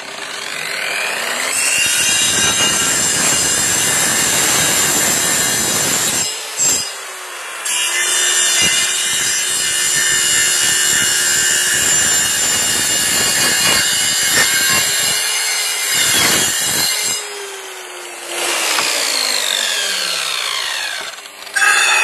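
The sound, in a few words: track saw cutting wood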